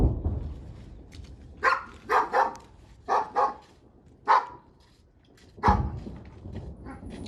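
A dog tied on a leash beside a house in a war-damaged town near Bakhmut barks repeatedly, loud and close, in irregular bursts of one or two barks with short pauses between.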